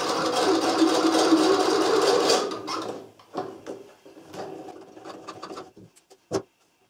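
A sewing machine stitches steadily for a few seconds at the end of a blouse seam, then falls silent apart from scattered clicks and small handling knocks as the backstitch is finished.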